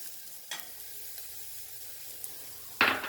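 Onions cooking in oil for millet upma give a soft, quiet sizzle, broken by a short stirring scrape early on and a louder spoon scrape near the end.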